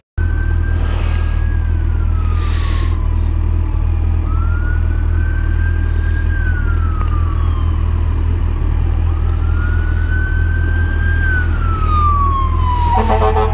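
A fire truck siren wails in long rising and falling sweeps as the truck passes, over a loud, constant low engine rumble, with brief air-horn-like bursts in between.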